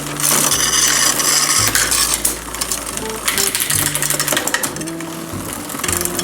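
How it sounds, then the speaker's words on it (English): A neglected Trek Verve hybrid bicycle's derailleur rubs and whirs with a steady mechanical drivetrain buzz as the shifter barrel adjuster is turned, loud and close, with some ratcheting clicks and no talking. "I'm going to turn the barrel adjuster in on the shifter until it stops rubbing."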